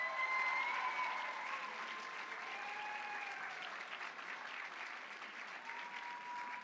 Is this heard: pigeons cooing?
no